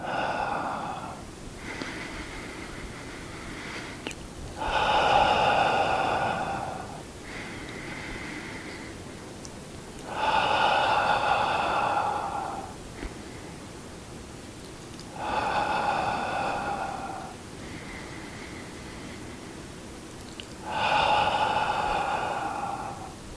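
Slow, deep breathing in and out during a seated tai chi flow for seniors, with about five long, audible breaths spaced several seconds apart, close and steady over a quiet background.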